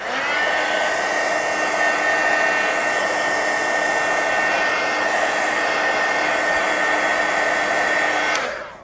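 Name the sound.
drying artist trading card with a dryer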